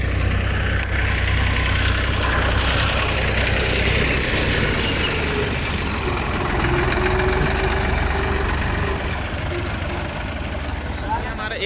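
A tractor engine idles steadily outdoors on a farm while being loaded with straw, a continuous low rumble running throughout with people talking over it.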